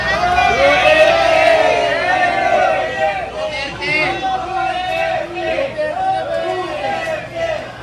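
Shouting crowd inside a Philippine public market, many voices yelling and chanting together at close range, loudest at the start and then continuing in uneven overlapping bursts.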